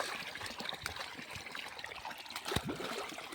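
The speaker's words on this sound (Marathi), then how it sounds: "हे बघा पाणी लावलं आहे." Water trickles and flows into a banana field for irrigation, a quiet steady gurgle with small splashes and one brief sharper knock, with no voices.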